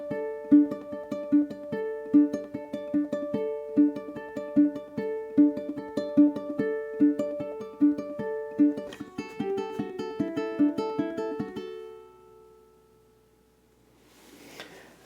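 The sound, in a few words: ukulele duet playing a song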